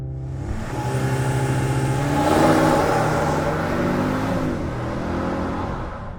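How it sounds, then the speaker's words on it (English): A 2024 Audi S3 facelift launches under launch control, its engine note climbing loudly through a hard acceleration run with a shift-like dip partway, then settling into a steady, strong drone. "now let's try launch control"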